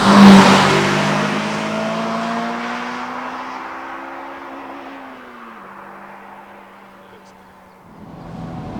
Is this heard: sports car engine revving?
yes